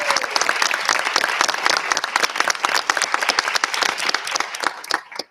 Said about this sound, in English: Can I get, please, a round of applause for all of our volunteers that are present this evening?